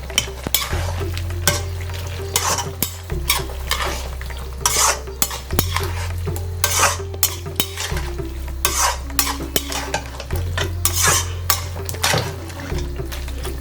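Vegetables with freshly cut mint and coriander are stirred in a frying pan for vegetable fried rice, a steady rhythm of spatula scrapes and clinks against the pan over a soft sizzle and a low electric hum, with no talking.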